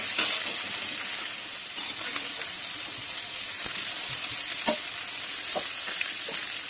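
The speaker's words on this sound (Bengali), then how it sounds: "এগুলো আমি তুলে নিচ্ছি, খুব বেশি ভাজবো না, হালকা হালকা ভাজবো" Chicken pieces for Kolkata-style chicken chaap fry lightly in oil with a steady, close sizzle, broken by scattered sharp crackles and pops, with no talking.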